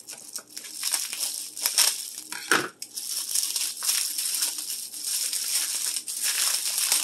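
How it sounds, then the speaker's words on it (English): A knife slicing open the mesh netting bag around a ham being prepped for roasting for an Easter dinner, with close crinkling, tearing and crunching sounds in short bursts and a sharper rip partway through, with no talk. "I'm going to cut open the mesh bag."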